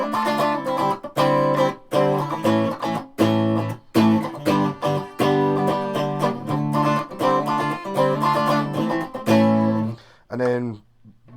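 Clean electric guitar with a coil-split humbucker in position 2, playing chords and single notes with a bright, slightly thin single-coil tone like a Strat, steady strumming, ending on a ringing chord.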